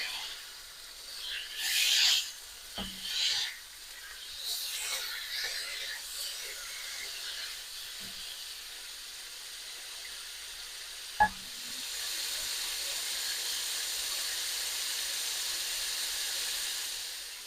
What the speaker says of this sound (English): We want to stir fry this for a couple of minutes